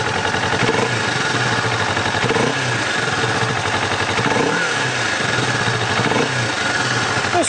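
A new fuel-injected motorcycle with a quiet exhaust idles fast while cold, a steady, even mid-pitched engine hum close by with slight irregular pulsing and no talk over it.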